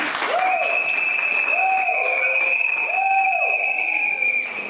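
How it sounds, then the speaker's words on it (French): A congregation at a wedding ceremony applauds and cheers, a loud, steady wash of clapping and crowd voices filling the hall, with a sung or voiced tone rising and falling on top. "Est-ce qu'on peut acclamer le Seigneur?"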